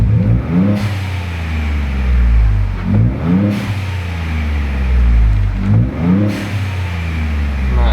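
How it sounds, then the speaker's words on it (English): A 2021 Ford Bronco fitted with a Turbosmart blow-off valve accelerates in three repeated pulls, each rising engine surge cut off by a brief airy release. It is heard from inside the cabin with the windows down. "Got that nice blow-off sound."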